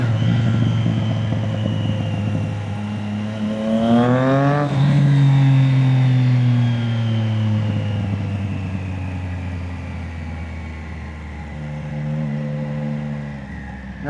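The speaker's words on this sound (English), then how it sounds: "Waking people up, bothering people with my loud exhaust." A car with a loud exhaust revs hard at night on an empty road, engine note climbing sharply then settling into a steady drone, loud and close with no talking.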